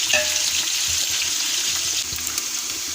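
Onions sizzle and fry in an open pot while browning for an Afghani mutton pulao, a loud, steady crackling hiss that continues throughout with slight stirring sounds and no talking.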